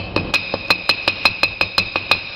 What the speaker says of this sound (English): take your hammer and just tap it in until it's flush